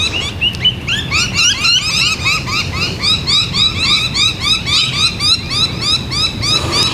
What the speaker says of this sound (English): My little butcher bird friend is directly above me now.